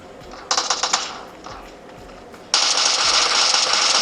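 In the PUBG video game, gunfire crackles in a short rapid burst of several shots, falls quiet, then a louder sustained stretch of dense, continuous firing follows, all close and sharp.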